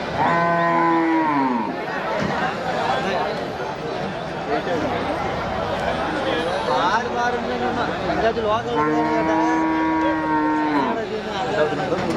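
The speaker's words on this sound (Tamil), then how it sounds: "இதெல்லாம் பாருங்கள் கைக்கரவை மாடுங்க எல்லாமே சேலம் ஓமலூர்லேருந்து வருது" Hand-milked dairy cows at a cattle market low repeatedly, with two long drawn-out moos standing out over busy crowd chatter and market noise.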